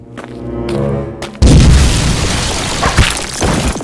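Car blowing up in Poppy Playtime Chapter 3: a sudden loud boom cuts off a steady engine hum, followed by a dense, roaring blast and scattered crackles that carry on for several seconds.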